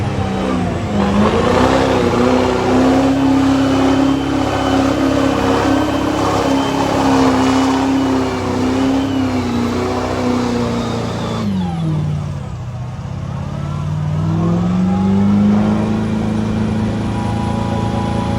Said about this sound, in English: Up next, we got the K. Hoss truck, driven by Chris Hoss